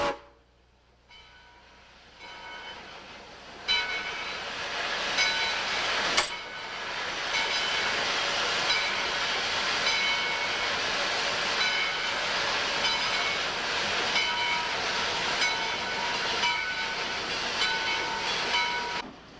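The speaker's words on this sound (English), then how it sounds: "This engine, which was built by the Lima Locomotive Works in 1928, is the largest narrow-gauge Shea ever built." A 1928 Lima Locomotive Works narrow-gauge Shay steam locomotive hauls a logging train on the Yosemite Mountain Sugar Pine Railroad, rising from quiet into a sustained chuffing, hissing rail clamor with a sharp bell-like ring early on, then fading slightly.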